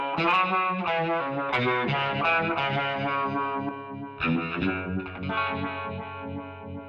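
Electric guitar with a single-coil pickup played through a univibe pedal, a tube screamer overdrive and reverb, picking a swirling, warbling distorted riff of chords and notes, clear and alone.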